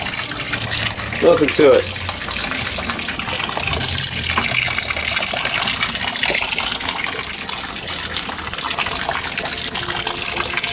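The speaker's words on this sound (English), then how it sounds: "Give you an idea how easy it is to change the water in one of these things." Water pours and gushes out of a PVC HHO oxyhydrogen wet cell reactor as it is emptied, a steady splashing stream heard close, with someone speaking briefly over it.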